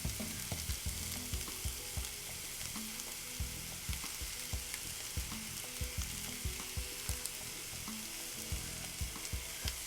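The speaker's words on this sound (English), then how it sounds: "We are now adding the sausage. See, hear that sizzle?" Sausage fries in a hot pan while being stirred, a continuous close crackle and hiss punctuated by rhythmic scraping strokes every second or so, with no talking.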